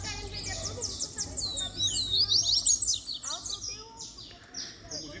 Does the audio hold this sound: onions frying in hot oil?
no